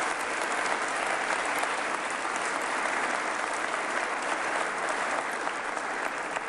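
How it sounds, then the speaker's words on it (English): A large assembly audience applauds the state supreme court justices at a State of the State address, a dense, steady roar of clapping that holds evenly throughout without pause. "If y'all give them a round of applause, please."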